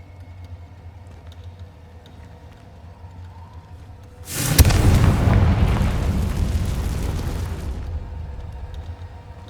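Confringo spell explosion in the video game Hogwarts Legacy, heard as a sudden loud boom after a quiet stretch, followed by a roaring blast that rumbles on for about three seconds before dying away.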